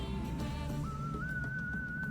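A diver's whistle sounds underwater in Endless Ocean: Blue World, a thin tone that wavers and then steps up to a higher held pitch over a low murky drone, with no talking.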